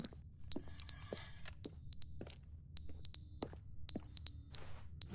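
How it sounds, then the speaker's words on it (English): Smoke alarm in The Stanley Parable Ultra Deluxe beeping in repeated high-pitched bursts, usually three quick beeps and then a pause, steady and loud over a low background hum. "Oh god, it's the smoke alarm."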